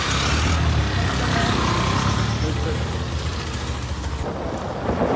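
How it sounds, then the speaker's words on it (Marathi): Motorbikes ride off on a rural road toward Velas in Ratnagiri, a loud continuous engine drone with heavy wind rush on the microphone, easing slightly toward the end. "तर मंडळी निघालो आम्ही बाईक घेऊन."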